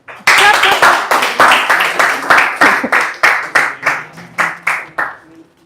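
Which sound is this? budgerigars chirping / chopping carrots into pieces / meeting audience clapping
meeting audience clapping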